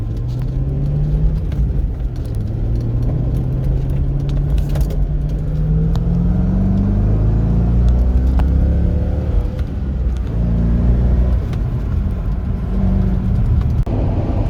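A C5 Corvette pulling away from a traffic light on a road leaving Charlotte, North Carolina, its engine drone rising steadily in pitch through the gears, heard loud and constant from inside the car.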